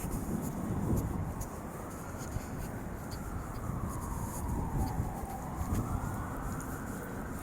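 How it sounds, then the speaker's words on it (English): Far-off emergency sirens in Grand Rapids, Michigan wail in slow, overlapping sweeps, steady and faint beneath a continuous rumble of background noise. "it involves a lot of sirens"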